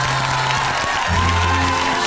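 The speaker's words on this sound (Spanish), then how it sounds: "Un aplauso para recibir a la expresidenta de la República" Studio audience on a Chilean TV talk show applauds to welcome former president Michelle Bachelet: a steady, dense wash of clapping and crowd noise under music, lasting the whole moment.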